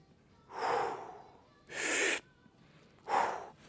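During a back rehabilitation exercise, a person takes three loud, close, airy breaths in turn, each lasting about half a second with short pauses between them.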